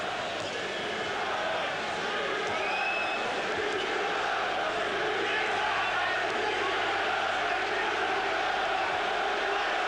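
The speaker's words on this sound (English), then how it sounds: "already the crowd are chanting the names of Ben and Eubank" Large boxing crowd at Old Trafford chanting fighters' names, a dense, continuous roar of many voices from a distance, steady in level, with a commentator's voice faintly over it.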